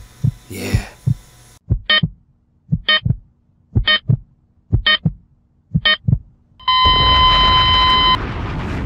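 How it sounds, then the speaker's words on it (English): Heartbeat sound effect of steady paired low thumps repeating about once a second, loud and alone, ending in a sustained electronic tone over noise. "Matter of fact, I can hear your heart beating."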